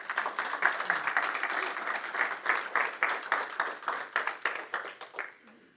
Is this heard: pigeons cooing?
no